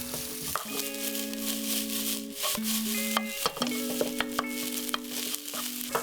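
Chicken stock powder being stirred into rice in a pan for a Japanese seafood doria, with soft scraping and stirring noises running under steady tonal background music.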